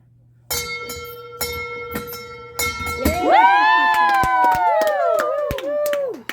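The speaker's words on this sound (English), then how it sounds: "Ring this bell 3 times for all to hear and give a good cheer" A bell is rung three times in a hospital chemotherapy ward to mark the last treatment, with clear sustained tones, then people cheer and whoop loudly close by as the ringing fades.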